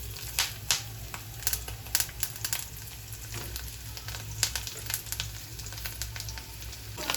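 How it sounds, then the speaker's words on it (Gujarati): Mustard seeds and carrot pieces sizzle and crackle in hot oil for a cabbage, carrot and chili sambharo, a quiet continuous fry broken by sharp popping bursts. "ચાલો તેલ આવી ગયું છે, થોડીક રાઈ નાખીશું."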